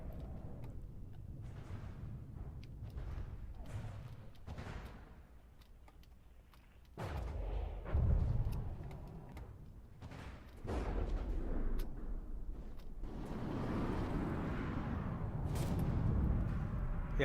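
Anti-aircraft turrets firing aboard a warship in From the Depths, irregular booms and rapid ticking bursts over a low rumbling battle din, some shots distant and faint, others louder and closer.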